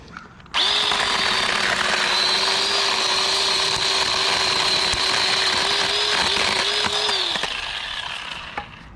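A Ryobi 10-inch battery-powered chainsaw cuts wood in one loud, sustained whine lasting several seconds. The motor holds a steady pitch, then cuts off and trails into quiet.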